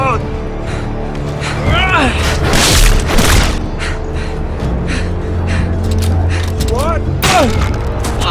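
Gunfire and booming explosions fill a Game of Thrones video game battle, heavy blasts and bursts layered with shouting voices, whooshing effects and loud impacts throughout.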